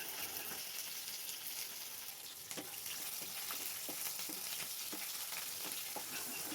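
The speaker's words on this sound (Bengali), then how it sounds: "একই তেলে পেঁয়াজটাকে ভেজে নেব।" Chopped large onion frying in oil already used for potatoes, a steady close sizzle with scattered soft crackles and pops throughout, no voices.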